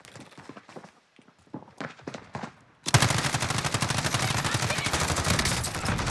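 Rapid automatic gunfire in the Warzone battle royale video game, a loud sustained burst of shots that bursts in after scattered quieter footsteps and movement, continuing without pause.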